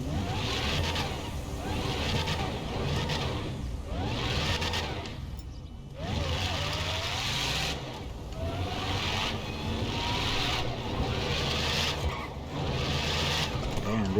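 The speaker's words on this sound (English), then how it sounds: "you can hear the engine sound, the exhaust. The exhaust actually sounds kind of different on this car" Engine and exhaust of a Dodge Charger Hellcat add-on car in GTA5, a steady droning roar with rising revs in several pulses and a brief dip near the middle, loud and continuous throughout.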